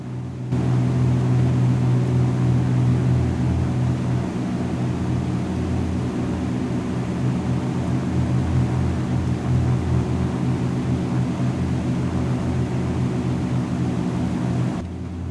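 Steady, droning piston engine of a Beechcraft Bonanza G36 in cruise flight in the X-Plane simulator, a continuous loud hum with strong low tones held unbroken from start to finish.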